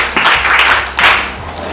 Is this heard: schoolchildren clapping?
yes